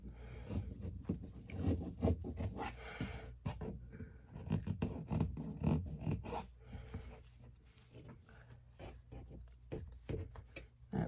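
Scissors cut through a fabric dish drying mat, giving close, steady scraping and rubbing snips with small handling noises and no talk.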